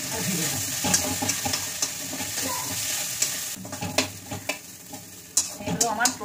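Cumin powder, salt and turmeric fry in a pan, giving a steady sizzle broken by several scraping stir strokes that grow choppier toward the end.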